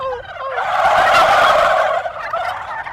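A person imitates a turkey call with a voice, giving one sustained, loud, warbling gobble-like cry close to the listener, meant to sound like a female turkey's call to draw male turkeys into gobbling back.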